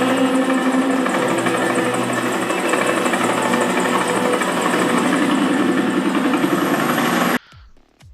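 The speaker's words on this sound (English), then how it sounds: "just concentrate on from where you are hearing the chopper sound" A helicopter demo track plays through a Zebronics Juke Bar 9700 soundbar in Dolby Digital, a loud, steady rotor thump and engine drone that cuts off abruptly near the end, leaving near silence.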